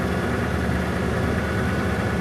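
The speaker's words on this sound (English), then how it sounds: "So the engine sounds good." A 1989 Lincoln Town Car engine idling steadily, a continuous even rumble with a low hum, close and moderately loud with no talk.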